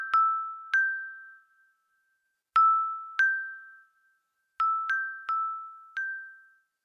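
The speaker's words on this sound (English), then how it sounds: "the sound of tinkling silver bells on the wind" Small silver bells tinkling in short bright clusters, separated by silent gaps, each ring ringing out and fading cleanly without any voices.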